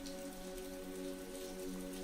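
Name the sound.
rain falling on cobblestone streets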